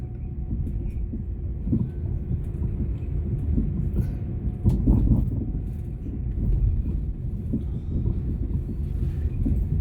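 Train carriages rolling past at Wigan in snowy weather, a continuous low rumbling roar with faint clatter and wind buffeting, loud and close throughout, no speech.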